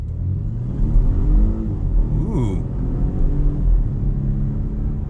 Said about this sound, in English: What do you guys say we do a launch from a stop? So I'm gonna throw it in sport mode.